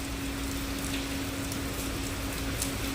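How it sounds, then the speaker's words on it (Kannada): Heavy rain pours in a dense, steady hiss of drops on surfaces, constant and loud, with a faint continuous hum underneath and no voices. "ನೋಡ್ತಿದ್ದೀರಾ ಮಳೆ."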